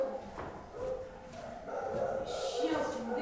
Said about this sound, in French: Les chiens sont déchaînés.